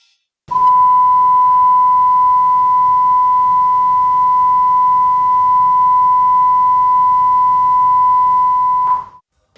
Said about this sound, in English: That is the vessel's fire alarm. Muster alarm.